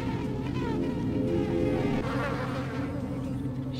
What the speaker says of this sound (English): I'm running from bees.